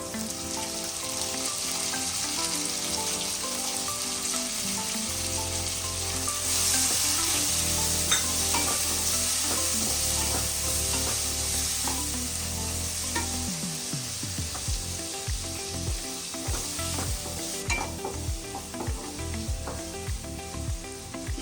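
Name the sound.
chopped tomato added to frying mushroom masala, sizzling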